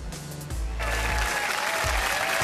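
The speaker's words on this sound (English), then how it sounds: "Can you hear the crowd on their feet?" A crowd at a Gran Turismo World Tour Nations Cup event in Sydney bursts into loud, sustained applause and cheering that swells and holds, filling a large venue.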